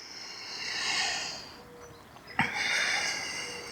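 Slow, deep yoga breaths, a long airy exhale swelling and fading, a short sharp sniff, then another long breath, close and soft with no talk.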